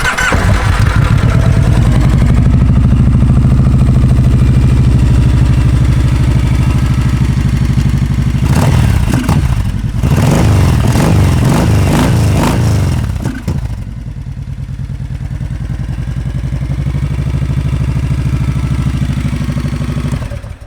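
A 2015 Kawasaki Vulcan Vaquero with an aftermarket air cleaner cranks over, fires up and settles into a loud, steady idle, with a brief burst of clattering revs partway through; no one speaks.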